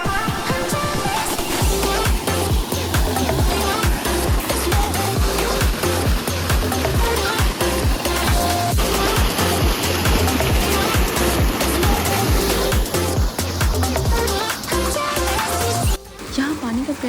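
Trarkhel waterfall in Kashmir roars as a dense, loud, unbroken rush of high-pressure water, with music playing over it throughout.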